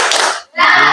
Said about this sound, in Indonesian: Ayo kita tepuk semangat dulu ya, sama-sama.